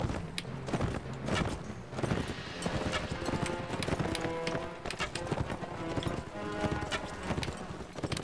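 Horse hooves clip-clop in Mount & Blade Warband, a steady galloping patter under busy battle noise and music, with an occasional faint whinny and no clear speech.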